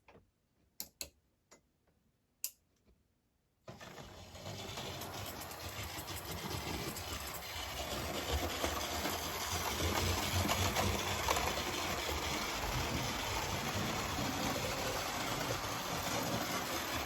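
Model locomotive pulling a Gresley sleeper coach fitted with new steel wheels: a few sharp clicks, then a steady mechanical whir and rolling rumble that holds on and grows slightly louder, close up with no talking.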